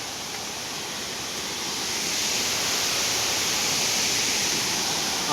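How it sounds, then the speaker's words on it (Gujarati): A powerful waterfall in the Patanvav hills roars as a steady, dense rush of water, constant and full throughout with no voices. "ધોધ છે અહીંયા બહુ જોરદાર"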